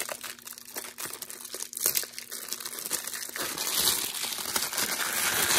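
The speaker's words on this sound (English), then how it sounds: "Let's go ahead and take that out of the packaging here." A wireless microphone being pulled from its plastic packaging: close, irregular crinkling and crackling of plastic that grows busier and louder toward the end.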